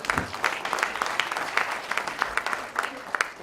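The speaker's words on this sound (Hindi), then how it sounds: "तो जोरदार तालियां, बहुत खुशी है।" Enthusiastic applause from a training-session audience, close, lively clapping with frequent sharp individual claps over a continuous wash, steady for the whole stretch.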